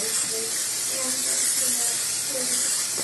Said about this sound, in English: make sure you spray it really good with some olive oil.